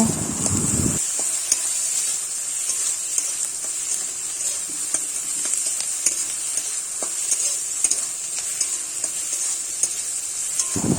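Fish curry fries with grated ginger and garlic in a pan, giving a steady, loud sizzling hiss up close, with scraping and clinking from stirring scattered over it and no talk.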